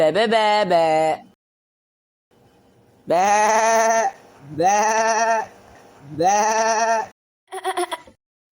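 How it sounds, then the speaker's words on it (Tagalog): Goat bleating in a Filipino animated cartoon, several loud drawn-out bleats in quick succession after an earlier call and a pause, close and clear. "may kambing"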